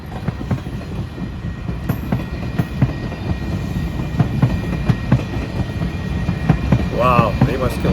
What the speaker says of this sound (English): Oh, here comes the train now.